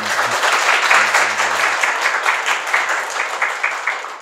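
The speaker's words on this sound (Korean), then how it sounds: "박수로 맞아주세요." A studio audience at a book talk show claps to welcome a poet guest, a full burst of many hands with a brief voice underneath early on, fading slightly toward the close.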